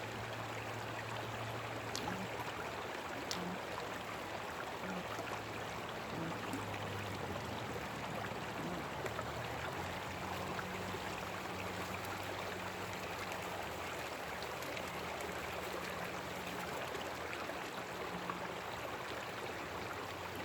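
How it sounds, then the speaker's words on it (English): Water washes over rock during gold mining in Colorado, a steady continuous rush and trickle that stays moderately loud for the whole stretch with a low hum underneath and no talking. "You have to wash the rock."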